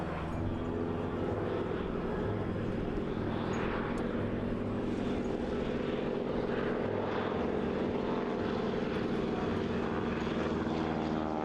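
Propeller aircraft fly at an air display, a steady loud engine drone with rich harmonic hum that holds throughout at moderate distance, without talk.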